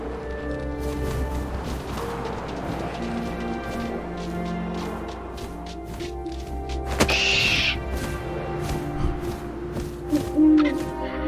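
An owl hoots in the narrative video game What Remains of Edith Finch, a soft call rising briefly over a busy layer of rustling, thumps and whooshing ambience.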